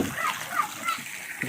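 Water splashes and splatters at a waterfall in uneven bursts, close by, with voices talking over the sloshing.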